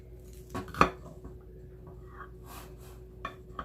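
A knife cuts through a loaf of banana nut bread with chocolate chips and raisins, giving a few close clinks and scrapes of metal against a plate or pan, with one sharp knock near the start and softer taps after.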